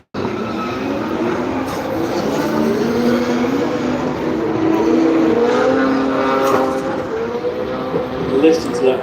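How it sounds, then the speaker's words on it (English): A car with an SR20 engine roaring at a Japanese car show at Silverstone, a loud sustained engine note rising and shifting pitch as it passes, with crowd noise and voices underneath. "Listen to that SR20 roar."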